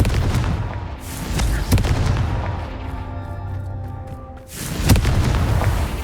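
A Confringo fire spell bursts in the video game Hogwarts Legacy, with sharp booming blasts at the start and again near the end, separated by a rumbling, crackling tail.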